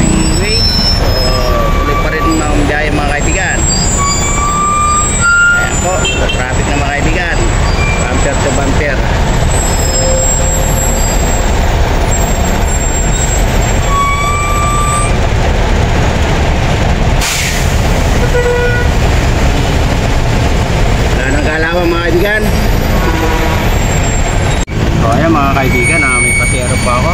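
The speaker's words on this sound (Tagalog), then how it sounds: "Sobrang traffic dito po sa aming way." Heavy road traffic en route to Valenzuela in the Philippines: a loud, continuous rumble of trucks and engines with hissing air brakes and occasional tonal horn-like blasts, steady throughout.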